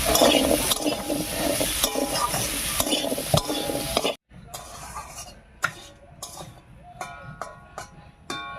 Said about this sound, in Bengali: লবণ হলুদ দিয়ে ভালো করে মিশিয়ে নিয়েছি